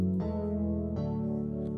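Synth chords for an Afro House track built in FL Studio ring out as two sustained, bass-heavy chord hits in succession, alone without voices.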